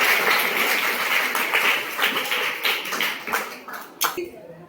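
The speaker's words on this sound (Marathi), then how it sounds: "सगळ्यांनी जोरदार टाळ्या वाजवा" Audience at a junior quiz competition breaks into loud, sustained applause, dense clapping holding steady for several seconds before tapering off near the end.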